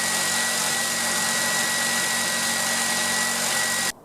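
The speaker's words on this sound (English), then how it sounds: "I get the bulk of it cut off with jigsaw" A jigsaw cuts a guitar headstock on a Harley Benton JA Jazzmaster kit, giving a dense, steady, close motor buzz that runs evenly for about four seconds and then cuts off abruptly.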